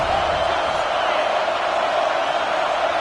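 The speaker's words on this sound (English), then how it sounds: "The Tide crowd rolling noise down on the Saban field on third down." Steady roaring crowd noise from an Alabama home stadium in College Football 26, a dense continuous wash of many voices on a third down, loud and unbroken throughout.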